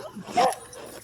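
Gus, a male stud dog, gives a brief whimpering yip near the middle of a short stretch, close and moderately loud, with a handler's voice softly around it.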